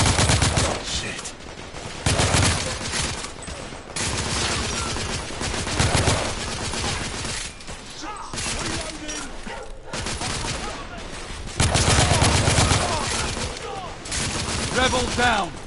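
Sustained gunfire from The Order 1886 video game: dense bursts of automatic and rapid shots in loud, overlapping volleys, with shouted voices mixed in between the salvos.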